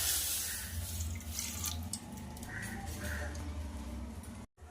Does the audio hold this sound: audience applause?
no